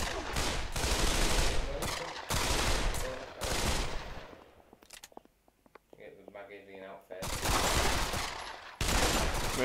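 Rapid bursts of gunfire from a VR shooting game on the HTC Vive, loud repeated volleys broken by a quieter stretch of faint clicks and electronic tones.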